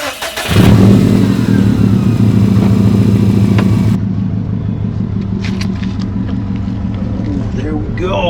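A 2017 Subaru STI engine starts up and pulls under acceleration during a ride, a loud steady drone with rising harmonics filling the whole stretch, with voices talking over it.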